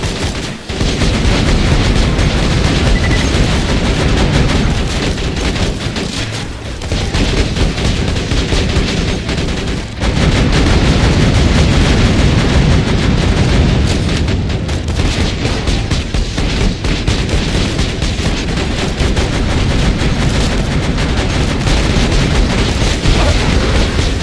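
Sentry gun firing in the video game Borderlands 2, dense continuous rapid gunfire mixed with booms and explosions, loud and sustained with only brief dips, no talking.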